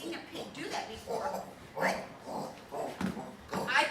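On stage at an improv comedy show, a performer vocally imitates a pig sniffing for truffles. Rhythmic snuffling snorts and grunts repeat about every half second, close and fairly loud.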